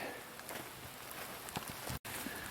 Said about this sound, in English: Well, it's certainly raining good.